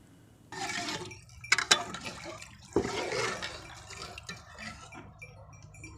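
Water poured from a vessel onto soaked rice in a cooking pot for potato pea rice, a splashing, gurgling pour with a few metallic clinks against the pot, close and alone.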